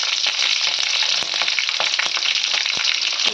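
Mustard seeds and cumin spluttering in hot oil, a loud, steady close-up sizzle dotted with sharp crackling pops throughout, no voices.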